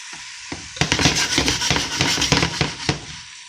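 Vegetables sautéing in a pan for chicken soup with rice, a bright sizzle broken by a series of sharp clattering stirs and scrapes, close and fairly loud.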